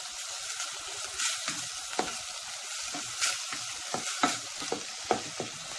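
Seasoned minced meat and vegetables browning in a pan for spaghetti bolognese, a close, continuous sizzle broken by scraping stir strokes and crackling pops, with no talking.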